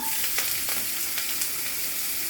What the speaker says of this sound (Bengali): তেলটা গরম হয়ে গেছে, এখন আমি পেঁয়াজ দিয়ে দিলাম